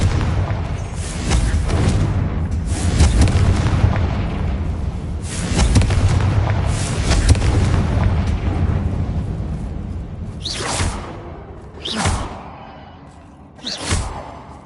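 Confringo spell blasts in the Hogwarts Legacy video game sound as a long run of heavy, booming explosions with whooshing rushes, followed by three sharper, separate bursts spaced apart near the end.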